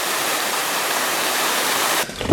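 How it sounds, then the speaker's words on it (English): Water gushes from a drain pipe out of an abandoned mine adit, a loud, dense, steady rushing roar that cuts off abruptly near the end. "That pipe right there is draining the Adit. That is a lot of water."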